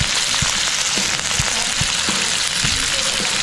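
Pork belly frying in a pan with pepper added, a steady loud sizzle with scattered sharp pops and crackles of spitting fat throughout.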